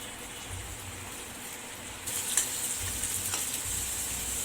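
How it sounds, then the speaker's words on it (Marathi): Chopped tomato sautéing with ginger-garlic paste in a hot pan gives a soft, steady sizzle that brightens and grows louder partway through, with a few faint stirring scrapes and no talking. "आता यामध्ये साधारण एक मोठा चिरलेला टोमॅटो टाकूया आणि परतून घेऊया"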